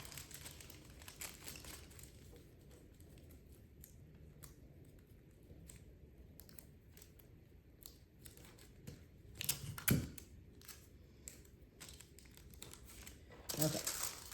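Tin foil being folded and crinkled over brown paper while making a foil crown, a soft, continuous crackling with sharper crinkles near the end, fairly quiet and close, under low speech.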